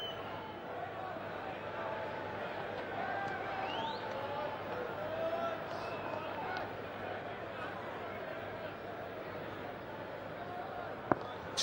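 England supporters in the stands at a Pakistan versus England one-day cricket match keep up a steady, dense roar of cheering and crowd babble, unbroken for the whole stretch, with one sharp crack near the end.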